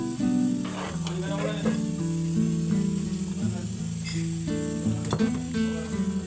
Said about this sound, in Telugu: ఇలా మధ్య మధ్యలో కలుపుతూనే ఉండాలి.